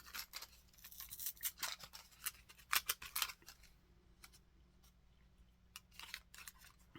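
Scissors snip through silk embroidery ribbon in a series of close, crisp cuts, clustered early and again near the end, with quiet pauses between and no talking.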